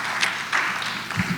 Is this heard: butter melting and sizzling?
no